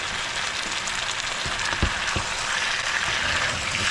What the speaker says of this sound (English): Probably want to fry these for about 5 minutes altogether